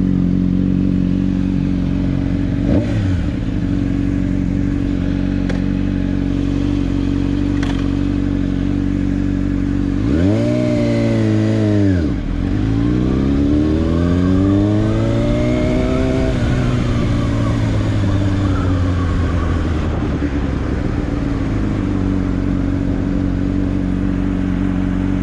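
A Honda CBR600RR motorcycle rides along a road. Its engine revs and accelerates repeatedly, with rising and falling pitch sweeps as it shifts through gears, loud and close.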